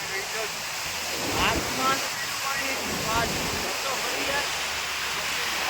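Swollen river water rushes under a bridge during rain, a loud, steady broadband roar with a voice speaking over it.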